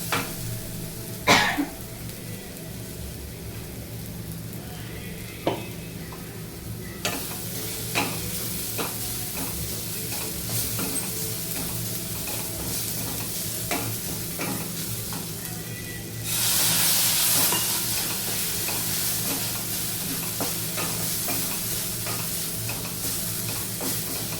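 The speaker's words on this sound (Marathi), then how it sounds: "सगळे मसाले छान परतून घ्यायचे जेणेकरून मसाला कच्चा नाही राहणार" Spices for lasuni methi sauté in a pan, a steady sizzle under repeated scraping and stirring strokes from a utensil, growing louder and brighter partway through.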